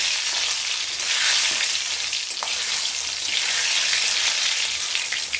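Spices tempered in hot oil for a sour lentil dal hiss and sizzle steadily up close, a dense crackling fry with small pops throughout and no voices.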